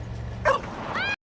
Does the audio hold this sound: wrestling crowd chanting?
no